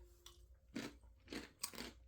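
Crunchy MRE snack mix of peanuts and almonds being chewed up close, with several distinct crunching bites in an uneven rhythm and no talking.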